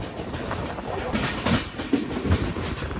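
A Bangalore to Chennai Double Decker Express train runs steadily, its wheels giving a continuous rumbling clatter with a few soft knocks, close and unbroken with no voices.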